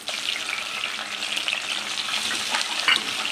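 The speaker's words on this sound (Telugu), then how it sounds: "సొరకాయని ఫ్రై చేసుకోవాలండి." Grated bottle gourd fries in ghee in a pan for a kheer, giving a steady, close sizzle with faint stirring scrapes throughout and no voices.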